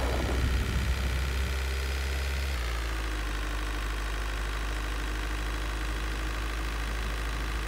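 A bus engine idles in the game Bus World, a steady low rumble with constant vibration that holds evenly throughout, close and continuous with no talk over it.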